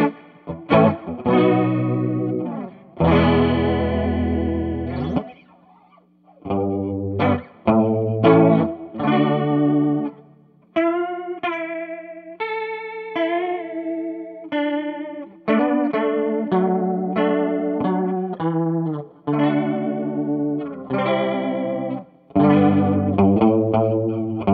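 Electric guitar through an Ibanez Bi-Mode Chorus pedal with a little reverb from a Purdy Tube Amps reverb pedal, a shimmering chorus, played in chords and single notes with a slight warble, moderately loud and continuous without talking.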